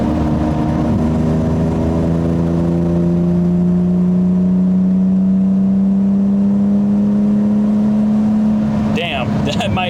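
A BMW E36 engine pulls hard from 60 to 80, a steady droning tone that climbs slowly in pitch under constant road and wind noise, heard from inside the car and ending in a brief shuffle.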